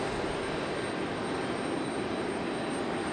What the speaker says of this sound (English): United 737 taking off there